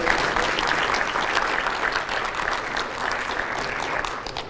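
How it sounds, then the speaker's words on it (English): A round of applause for presenters and panelists at a workforce summit, steady and dense clapping from a seated audience, even and moderately loud before tapering slightly at the end. "round of applause for all of our presenters and panelists"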